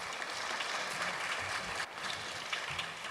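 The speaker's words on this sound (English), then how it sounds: "They deserve a round of applause, please" Dense, steady clapping from a large crowd at a formal ordinary session fills the whole stretch, loud and continuous with no voices standing out.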